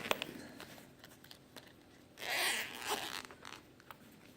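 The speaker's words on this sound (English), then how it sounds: "So let's unzip and see what we got." A zipper is drawn open on a zippered watch case, giving a short, close ripping rasp in the middle, surrounded by faint handling rustles and light taps.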